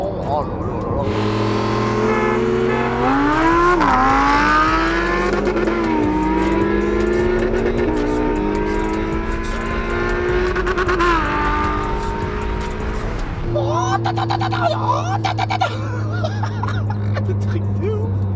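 Ferrari and Lamborghini engines rev hard side by side during a standing-start drag race, rising and falling in pitch with a brief lull before a renewed roar near the end, with talk over the engine noise.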